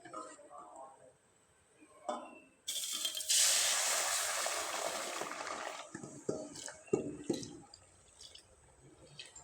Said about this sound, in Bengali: আমি চুলায় একটা কড়াই বসিয়েছি। এবার কিন্তু বেটারটা ঢেলে দিতে হবে।